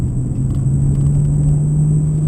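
A car climbs a hill under acceleration and shifts up to third, heard from inside as a loud, steady low engine rumble with a constant hum over the short stretch.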